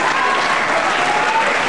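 A wrestling crowd at Hemel Hempstead applauds, with steady, dense clapping that fills the hall loudly and evenly throughout.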